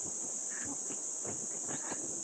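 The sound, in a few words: crickets chirping outdoors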